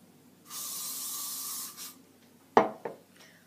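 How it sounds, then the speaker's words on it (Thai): Hairspray sprayed onto a styled updo: a steady, close hiss lasting just over a second, a brief second puff, then a few soft handling clicks and taps. "พอเราจัดได้ที่แล้วนะคะเราก็จะมาฉีดสเปรย์เลยค่ะ"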